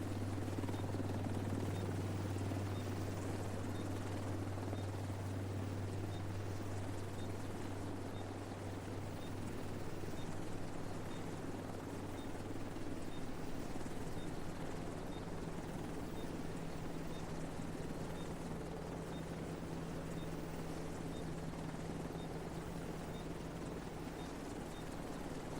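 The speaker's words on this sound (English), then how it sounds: "Helo will depart in 30 seconds." A helicopter waits at an extraction point in The Division 2 video game, its low rotor drone steady and continuous throughout, moderately loud with no talk over it.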